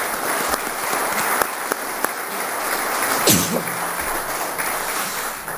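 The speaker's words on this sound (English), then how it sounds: "Round of applause if you don't mind" Audience applause at a Wakefield, New Hampshire candidates forum, a steady wash of clapping from a large crowd that fills the whole stretch at an even level, with a few sharper individual claps standing out.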